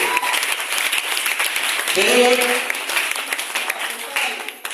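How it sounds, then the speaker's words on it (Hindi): Crowd at a Hindi-language motivational team meeting breaks into loud, sustained applause, a thick clatter of many hands, with voices calling out over it partway through. "बजाओ शानदार ताली बरस लीजिए।"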